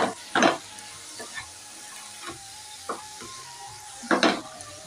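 Peas with turmeric being stirred in a frying pan: a soft continuous sizzle broken by several scraping strokes of a utensil, with the strongest bursts near the start and end, and no speech.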